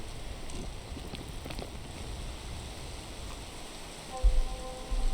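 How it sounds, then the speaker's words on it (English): Rain falls steadily in the climbing video game PEAK, a soft, even hiss of drops that stays faint throughout, with a couple of low bumps near the end and no one talking. "Yeah, it's raining, so it's not the best time to climb."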